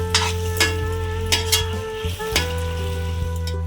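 Spices and tomatoes with green chillies frying and being stirred in a pan over a medium flame for a Bengali fish-head muri ghonto, a steady close sizzle broken by several sharp scraping stirs.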